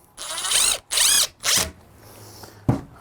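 Power driver screwing in latch screws while a keypad electronic lock set is installed, three close, loud whirring bursts in quick succession followed by a sharp click.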